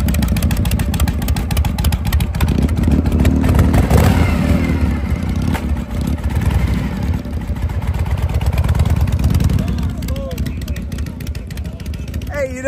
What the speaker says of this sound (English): you can hear the chopper coming to life